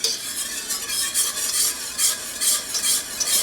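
A whisk beats gravy rapidly in a pan for hamburger steak with onion and mushroom gravy, producing a rhythmic series of bright metallic swishes and clinks about twice per second over a steady bubbling sizzle.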